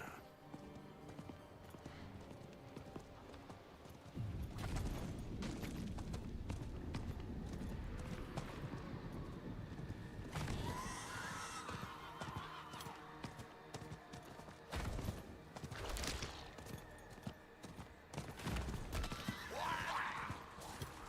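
Horses clip-clopping in a Grand Theft Auto video game, a steady run of hoof beats with occasional whinnies, moderately close and continuous over the length of play.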